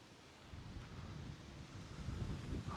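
Low, rumbling wind buffets the microphone, steady and gusting a little stronger toward the end, with no voices.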